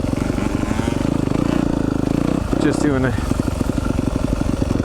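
A 2020 Yamaha YZ250FX dirt bike rides over slick, rocky ground, its engine chugging in a close, steady rhythm with clattering and scraping, then a brief rev mid-ride.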